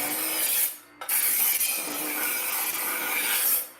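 A kitchen knife drawn through a cheap $8 electric sharpener, giving a steady, close, harsh rasping grind that breaks off briefly near the one-second mark and then continues until it fades out at the end; no one speaks.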